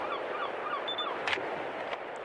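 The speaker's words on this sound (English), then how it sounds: "Seagulls." Faint gull-like cries and honking calls from seagulls in the video game Splatoon repeat over a soft steady background, with a couple of brief sharp bursts.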